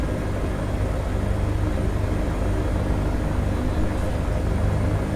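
Steady, dense drone of an Airbus H145 helicopter in a flight simulator game, its engine and rotor noise running continuously at even loudness throughout, with no talk.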